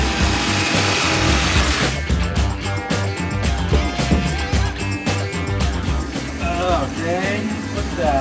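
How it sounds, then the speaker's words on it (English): A jigsaw cuts a wall panel inside a Ram Promaster van, its blade buzzing and rasping loudly and close, with uneven pitch shifts as the cut progresses, while someone speaks. "Jigsaw time."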